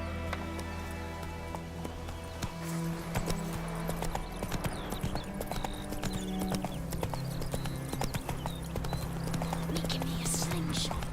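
Horse galloping in the video game Witcher 3, a rapid, steady clip-clop of hooves running continuously under a game music bed with faint background sounds.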